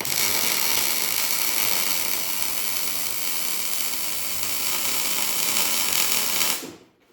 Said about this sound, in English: Boy, I like this welder.